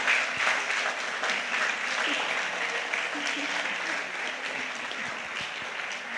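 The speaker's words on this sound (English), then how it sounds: "give us a round of applause to thank everybody for all of their hard work" A room of classmates at a 50-year class reunion gives a sustained round of applause, dense and loud, with murmured voices and a few cheers blended underneath.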